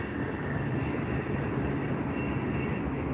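A train rolls around a peninsula, a loud continuous rumble of wheels and cars on the rails, steady and dense, heard from fairly close without any voices.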